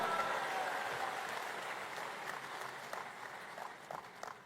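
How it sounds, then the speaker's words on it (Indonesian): A crowd at a party congress claps together, a dense wash of applause that slowly thins. A few louder individual claps stand out near the end. "Luar biasa, tepuk tangan untuk kita semuanya."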